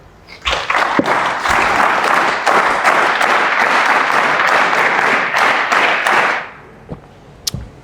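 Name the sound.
applause, audience clapping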